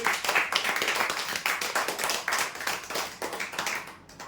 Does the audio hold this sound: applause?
yes